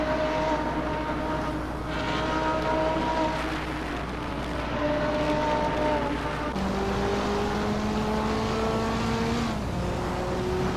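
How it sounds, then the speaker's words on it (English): Race cars in a Hot Wheels video game drag race: sustained engine tones climb steadily in pitch across several gear changes, loud and continuous with no talking. "so we'll have a drag race to the finish here"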